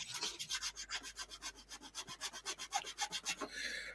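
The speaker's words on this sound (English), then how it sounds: "I'm sanding this piece of wood." Rhythmic back-and-forth rasping of sandpaper on a piece of wood, about two strokes per second, close and alone.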